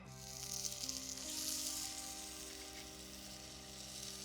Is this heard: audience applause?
no